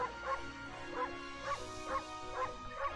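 Cartoonish wolf barks from the video game Ōkami HD, a steady run of six or so short, bright yips repeating about every half second over a droning game music bed.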